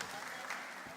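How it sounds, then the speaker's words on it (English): Steady applause from a crowd, a brief burst of clapping that fills the whole moment at moderate volume. "Clap for her."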